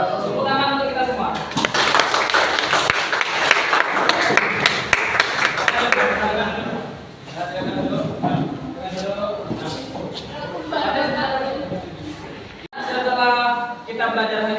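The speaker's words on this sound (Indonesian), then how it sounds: "Tepuk tangan untuk kita semua." Students applauding in a classroom, a burst of brisk, close clapping that lasts a few seconds, followed by a teacher and students speaking.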